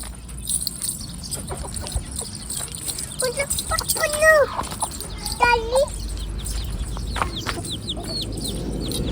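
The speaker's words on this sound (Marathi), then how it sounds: "ही बाहेरची कोंबडी कोणाची आहे" A chicken clucks repeatedly in the foreground while people talk and call out around it, with a steady outdoor background hum.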